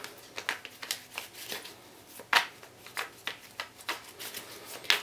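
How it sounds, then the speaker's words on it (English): Tarot cards are shuffled by hand in a quick, uneven series of close, crisp riffles and slaps, with no talking. "Let's just see, a little more shuffling."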